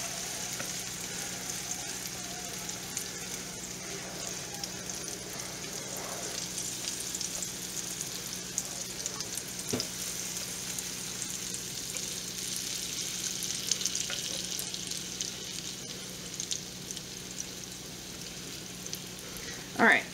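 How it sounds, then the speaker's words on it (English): Steady broadband sizzle of cornbread batter frying in a hot cast iron skillet, continuous and close, with a few faint clinks and no talking. "And that sizzle is what you want to hear."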